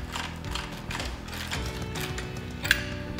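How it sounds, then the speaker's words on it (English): A spring compressor squeezes the front strut coil spring of a 2015-2021 Subaru WRX, giving a continuous close mechanical grinding and ratcheting with a steady rhythmic churn and one brief sharp click near the end. "To disassemble the strut, begin by carefully compressing the spring."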